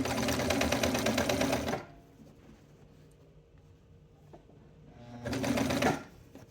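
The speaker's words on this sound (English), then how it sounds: "I'm going to say I'm only going to sew to this point and then stop." A sewing machine stitches a kosode collar in two close, rapid runs of rhythmic needle clatter, split by a quiet pause of a few seconds with only faint handling sounds, and no talking.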